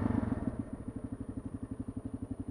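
KLR 650 motorcycle engine chugging at low revs during a slow U-turn on a mountain road, a steady rhythmic thumping pulse heard close and alone.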